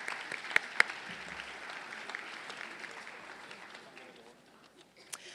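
A graduation hooding ceremony audience applauds an award recipient, soft, distant clapping that thins and fades over several seconds, with a couple of sharper claps near the start and a faint voice beneath.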